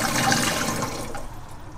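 Water pours from a pitcher into the top of a budget espresso machine's water tank, a close rushing splash that gradually fades and thins as the tank fills.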